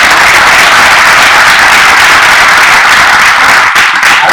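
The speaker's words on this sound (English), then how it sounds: "I think we clap that" A crowd at a bookstore event gives loud, sustained applause that fills the room with dense, continuous clapping and no pause.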